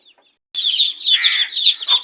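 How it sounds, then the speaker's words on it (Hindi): A broody golden hen clucks loudly and steadily at close range, a continuous run of harsh, rasping calls after a short silence. "मुर्गी कुड़क हो गया"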